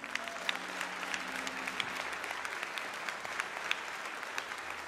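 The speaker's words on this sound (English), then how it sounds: "Y'all, please give a round of applause for my co-counsel, a great lawyer attorney" Fairly quiet but sustained crowd applause at a memorial service in Chesterfield, Virginia, dense clapping with a low background murmur and a few sharper claps standing out.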